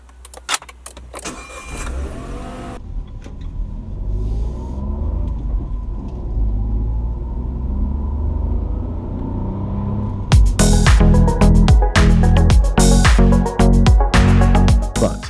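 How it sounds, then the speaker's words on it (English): A 2018 Renault Clio TCe 75 with a sub-one-litre three-cylinder engine runs close by, a steady low rumble with some mechanical clatter that turns into a heavier, choppier roar partway through. "the least powerful 3-cylinder, tiny little engine that's hiding under the bonnet here"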